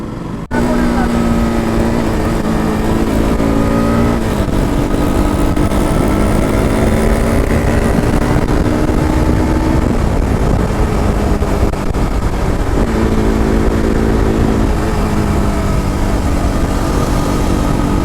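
A Yamaha RX motorcycle roars steadily and loudly while climbing the Wayanad ghat road at night, its engine note rising and falling with other bikes nearby and faint voices underneath.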